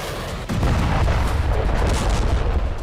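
Heavy booming blasts from road demolition explosions in North Korea rumble loudly. A sharp thud hits about half a second in, then dense roaring detonation noise carries on with no voices.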